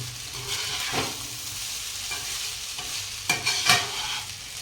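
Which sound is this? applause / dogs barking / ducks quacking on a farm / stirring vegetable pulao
stirring vegetable pulao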